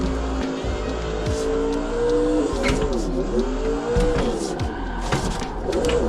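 A simulated car drifts in Assetto Corsa, its engine revving and dipping in pitch with tire squeal through a slide, loud and continuous under someone talking.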